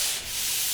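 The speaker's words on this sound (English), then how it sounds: "you can get a little screen or sandpaper on there, and you can flip it upside down, put it on the ceiling, and you can sand this way" A sanding screen scrapes across drywall mud on a ceiling in one loud, close, hissing stroke with a brief dip in the middle.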